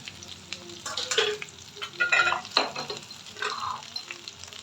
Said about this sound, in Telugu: ఇప్పుడు బెండకాయ యాడ్ చేసుకోవాలి.